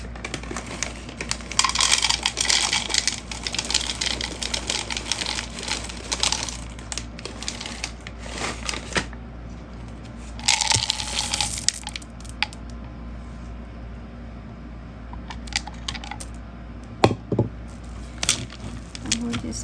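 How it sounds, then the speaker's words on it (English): A spatula folds chocolate chips into a low carb cookie dough, making soft, irregular squishing and scraping sounds with brief louder bursts and a few sharp knocks. "You just fold that in with a spatula."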